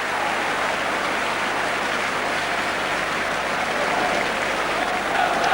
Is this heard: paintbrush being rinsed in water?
no